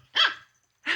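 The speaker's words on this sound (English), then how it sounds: "Yeah, come on, bark." A puppy gives two short, sharp barks close by, separated by a brief pause, with no talking over them.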